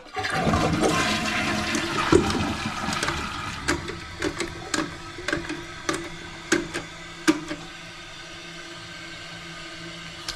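Toilet flushing with a rushing gush of water, then the tank refilling with a steadier hiss punctuated by a series of sharp clicks and knocks, heard close up.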